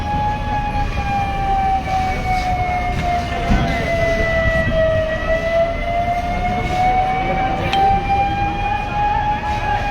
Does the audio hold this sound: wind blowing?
no